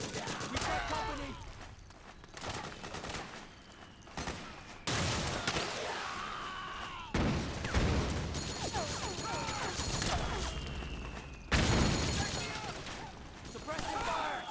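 Suppressing gunfire in a Metal Gear Solid 4 battle: heavy volleys crash in roughly every few seconds amid rattling automatic fire, with shouting voices threaded between the bursts.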